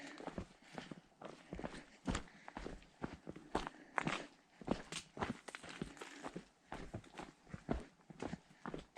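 Hikers walk the top of a knob on the Rainbow Trail near Carter Dome, their footsteps crunching on rocky ground in an irregular rhythm, close but faint, with no talking.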